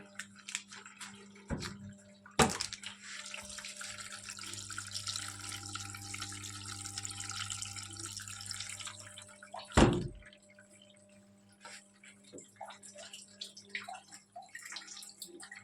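Clothes being washed, with running and splashing water from a tap flowing steadily for several seconds, a couple of sharp knocks, then quieter drips and trickles, close by.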